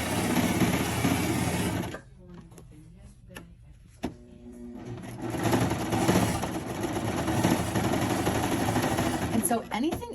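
A serger stitches binding onto a quilt. A steady loud whir runs first, then drops away to quiet handling clicks and a brief voice, and returns as a sustained mechanical hum for the last several seconds.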